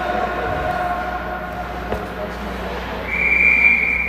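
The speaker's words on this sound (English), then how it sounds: "Referee whistles it down." Referee's whistle at a U16 ice hockey game, a sustained high-pitched tone in the last second over steady arena crowd noise.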